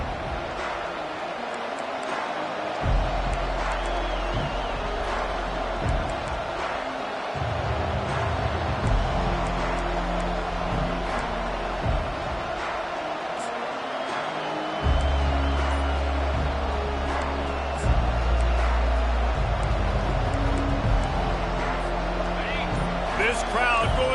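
A football stadium crowd roars steadily throughout, a dense, continuous wash of cheering under a commentator talking over it.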